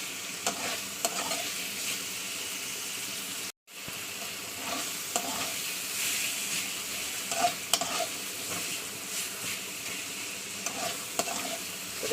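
Pumpkin, potato and pond prawns sautéing in hot oil, a loud continuous sizzle with stirring scrapes throughout, broken once by a brief gap of silence.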